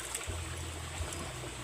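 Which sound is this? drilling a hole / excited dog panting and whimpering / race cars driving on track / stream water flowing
stream water flowing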